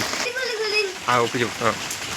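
Steady rain hisses continuously in the background while a person speaks over it.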